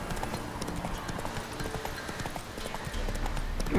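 Horse hooves gallop at a steady, continuous clip-clop rhythm while riding across terrain in The Witcher 3: Wild Hunt, loud and close with game ambience underneath and no talk.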